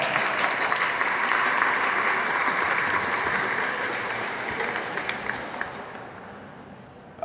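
A ceremony audience applauds a silver sponsor, Amatec Staffing, at a Hispanic Heritage Month closing event: a steady wash of many hands clapping, loud and sustained, gradually thinning and fading toward the end with no talk over it.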